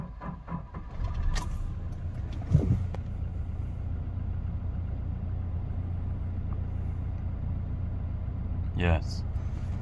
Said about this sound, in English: And try again, start car.